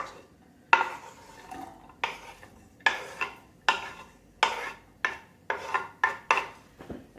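Onions go into a hot pan and are stirred, a series of irregular scraping and clinking strokes from a utensil against the pan, close and moderately loud, with soft sizzle between them.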